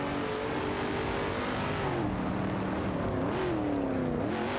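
Racing car engines in a video game, including a Porsche 911 RS 2.7 and a Shelby GT350, drone loudly and continuously, their pitch rising and falling through gear changes.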